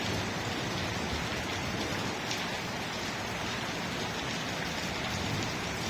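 Steady rain falls in Murree, a constant broadband hiss of drops hitting surfaces that continues evenly with no voices over it.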